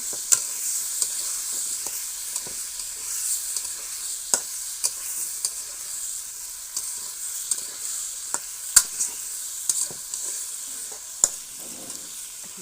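Potato curry sautés in a covered pan with a quiet, steady sizzle, broken by sharp intermittent clicks and taps of a spoon against the pan, no talking.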